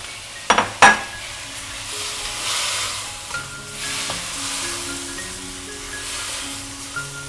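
Onions and squid stir-fried in a wok for a Taiwanese dish, with two sharp utensil clinks against the pan early on, then a steady soft sizzle and scraping stir over high heat, close and moderately loud with no talk.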